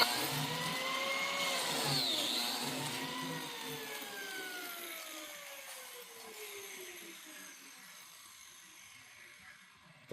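A secondhand plate jointer's motor whines steadily, then spins down with a falling pitch that slowly fades over several seconds, heard up close with no talking.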